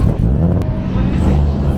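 A Toyota 4A-GE four-cylinder car engine idles rough and loud up close, its low throbbing rumble rising briefly in a rev before settling back, at a drift event.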